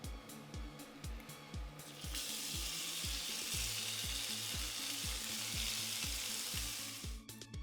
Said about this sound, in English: Pop your oil in a saucepan and turn it to low, then add your Sichuan, you know the pepper I mean, along with the star anise and the garlic and ginger.